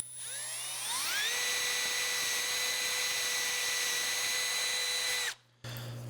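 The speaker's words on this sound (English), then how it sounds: "So we're going to take our pipe and we're going to drill 2 holes in it, 1 at each end." A power drill with a 3/16 inch bit bores holes into a pipe, its high whine rising quickly in pitch as it spins up, then holding a steady, loud tone for several seconds before cutting off abruptly.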